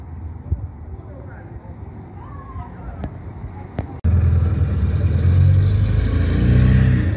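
A motorcycle engine cuts in abruptly halfway through after quieter background noise, then revs in a loud, sustained, rising drone until the end.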